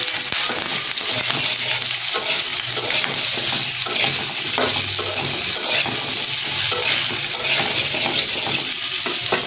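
Plantain and other pieces are frying in hot mustard oil, with mustard seeds added, a loud continuous crackling sizzle with stirring and scraping mixed in, steady throughout without talk.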